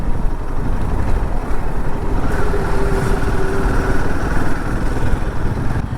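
Motorcycles rumble past on a road near Lonar in the morning, a continuous loud engine drone with overlapping passes and no clear gaps.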